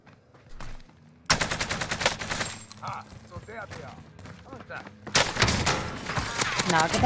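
Gunfire in Call of Duty Warzone: two loud clusters of rapid shots, including a shotgun, separated by quieter game sounds, with talking mixed in.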